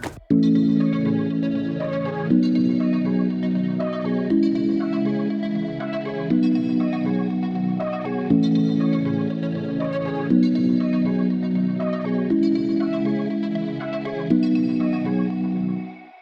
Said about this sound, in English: So the entire synth section sounds like this.